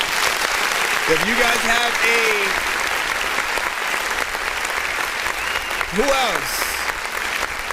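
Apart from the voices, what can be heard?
audience applause for an artist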